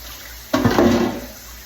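Tap water suddenly gushes and splashes over cabbage leaves being washed in a kitchen sink, a short loud burst that settles into a steady running stream.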